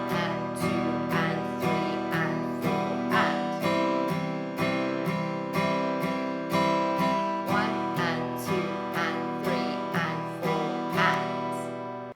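An acoustic guitar strums chords with one steady down stroke per beat, a regular, even rhythm played close and clear without any talking.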